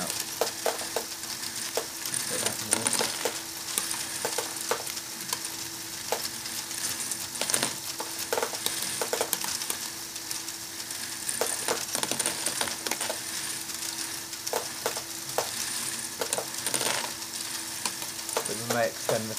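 Lego bricks tumble inside a rotating trommel sorter drum, a continuous dense rattle of small plastic clicks and clatters with occasional louder knocks, steady and fairly close throughout.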